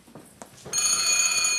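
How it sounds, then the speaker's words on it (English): An old early-twentieth-century household telephone bell begins ringing loudly and steadily after a few faint knocks, a bright continuous metallic trill in a large country house. "Mr. Carson's telephone is ringing."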